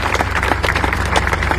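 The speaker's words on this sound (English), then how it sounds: "Let's have a round of applause for the elected officials who helped make this happen" Crowd applause at an official public ceremony honouring elected officials, brisk overlapping claps at close range, continuous over a short stretch.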